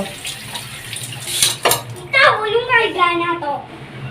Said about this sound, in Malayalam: ഈ പാത്രങ്ങൾ ഇനി മോ കഴുകാനാണ് കേട്ടോ